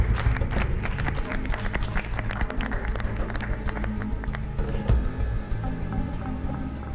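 A studio audience at a party-style game show claps in a dense, crackling burst that thins out over the second half, with a few voices mixed in.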